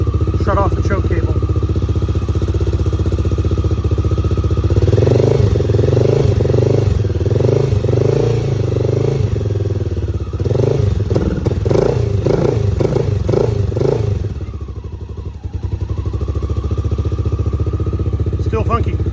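A carbureted Honda XR650L motorcycle engine runs on choke, idling unevenly with a close, loud, lumpy beat that surges and stumbles between revs before settling back.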